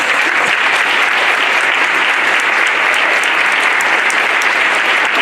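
An audience at a December 2017 school board meeting applauds new Beta Club inductees, with loud, sustained clapping that stays even from start to finish.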